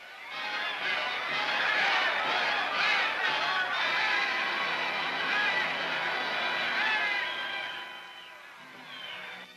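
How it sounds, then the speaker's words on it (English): A large crowd jostles and shouts at the gates of the Japanese Premier's home in 1946 as police try to push it back, a dense, continuous clamour of many voices that fades somewhat toward the end. "At the gates of the Premier's home, Japanese police try vainly to force the crowd back."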